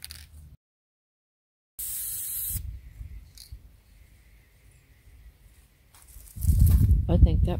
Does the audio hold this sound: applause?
no